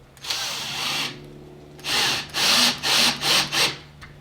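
A power drill drives a short screw into a door lock, with one brief whir followed by several short bursts, close and loud, with no talking.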